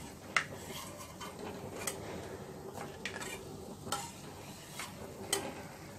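Sabudana (sago) pearls fry in a pan with a soft, continuous sizzle, while a spoon stirs them and scrapes the metal in sharp intermittent clinks spaced about a second apart. The sound is quiet and close.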